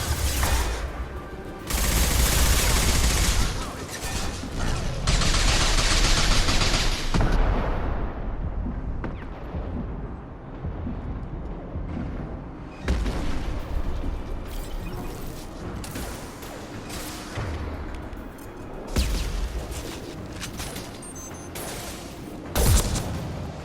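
Gunfire in the Mass Effect 2 video game: dense, loud bursts of shots and heavy impacts with mechanical clatter, rolling almost continuously with brief lulls and sudden blasts.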